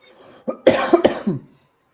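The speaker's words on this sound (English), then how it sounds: "I know that cough anywhere." A single close, loud cough burst of several rapid hacks, following a short rough throat sound, with no talk.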